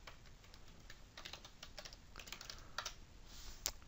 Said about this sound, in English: So I'm going to just go ahead and type this in here.